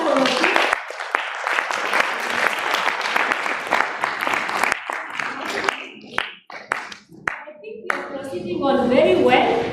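A children's assembly in Nairobi, Kenya, claps in a dense, rhythmic burst of many hands for about six seconds, then breaks into a few sharp separate claps before voices and murmuring take over.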